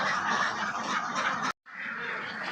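Ducks on a Bangladeshi duck farm quack in a dense, steady chorus with no pause except one brief break of silence partway through; no one talks.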